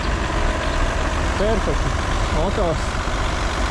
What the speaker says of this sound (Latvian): Motors ļoti labi pielicis, nekāda raustīšanās, viss ļoti labi.